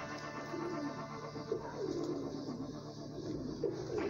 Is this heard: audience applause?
no